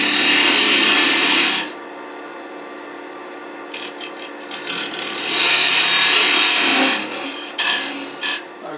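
A wooden block spins on a lathe while a tenon is turned on one end to fit the chuck jaws, giving loud bursts of hissing, scraping cutting broken by short pauses.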